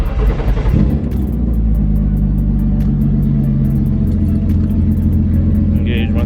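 A BMW E36 engine runs with a loud, steady low rumble close by, holding an even drone after a brief rise at the start, with a faint rhythmic ticking over it.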